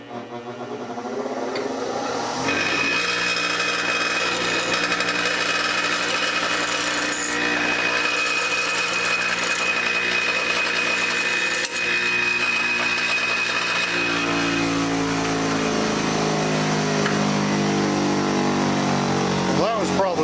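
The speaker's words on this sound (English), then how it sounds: "It kind of caught on the grinding stone." A bench grinding stone grinds threads off a steel swivel pipe for a drill-powered ice auger, running as a loud, steady whine with a fuller grinding tone building near the end, and no talk over it.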